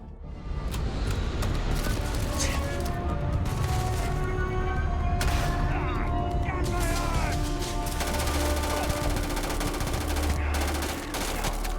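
Dense, loud combat in the video game Starfield: rapid gunfire bursts and heavy blasts, likely grenade explosions, roll on almost without pause, with a low rumble underneath.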